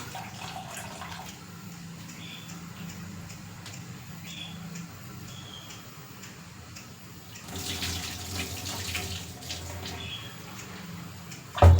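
Drumstick leaves washed under a running kitchen tap, a steady soft stream of water that grows louder and splashier partway through, close and with no talk.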